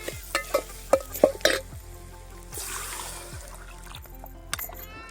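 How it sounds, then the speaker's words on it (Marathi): Masala spices being sautéed in a pan for a country chicken dish: a close series of sharp stirring and scraping strokes over a steady sizzle, busier in the first half and then settling into quieter frying. "चांगलं परतू परतू मसाले घेतले"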